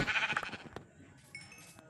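A goat in the Minecraft video game gives a short, quiet bleat, alone with faint game sounds following.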